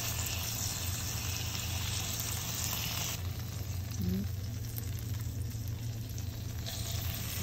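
Hamburger patties for homemade cheeseburgers fry in a pan with a steady, broadband sizzle that holds continuously throughout, fairly close and with no one speaking.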